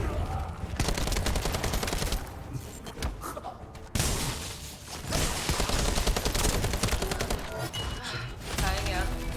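Dense, sustained bursts of video game gunfire rattle almost continuously, loud and close, with a brief break before the shooting resumes, while a voice talks over it.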